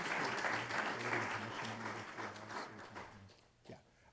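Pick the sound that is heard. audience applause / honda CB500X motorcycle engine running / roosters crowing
audience applause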